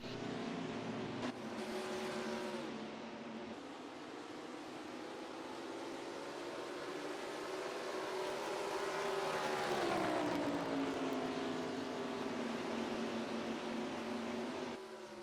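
Race cars in the NASCAR Racing 2003 game, on a Denver oval during a pit stop cycle, give a steady engine drone that swells as cars pass and fades slightly, with no talking.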